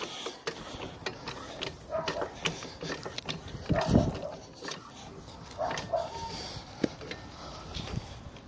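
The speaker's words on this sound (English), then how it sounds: "I'll go ahead and get the jack started." A car jack ratchets and clicks as it is cranked to lift a 2015 Chevrolet Malibu on dirt, with irregular close mechanical ticks and clanks under intermittent talking.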